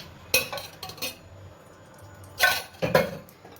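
A frying pan is set down on a home kitchen stove with several short metallic clanks and clinks, separated by quiet pauses.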